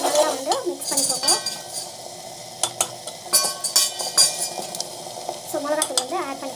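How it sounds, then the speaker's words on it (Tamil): Ingredients are mixed in a pan with a metal spoon, producing rhythmic scraping and clinks against the pan over a light sizzle, with a voice talking in between. "ஸோ இதை நல்லா வந்து மிக்ஸ் பண்ணிக்கோங்க"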